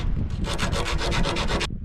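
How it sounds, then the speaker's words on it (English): Sandpaper of 120 grit rubbed by hand in quick back-and-forth strokes, smoothing an edge during a mower discharge chute install on a Grasshopper midmount mower; about a dozen close, steady rasping passes with no talk. "I'm going to use a little bit of 120 grit sandpaper"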